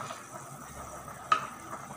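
Chinese humba pork simmering in a pot, with a soft, steady bubbling hiss throughout and one brief sharp clink near the middle.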